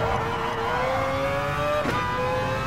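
Mazda RX-Vision GT3 Concept racing in Gran Turismo, a steady high engine whine holding pitch with a brief gear-change dip near the end, loud and continuous with no talk.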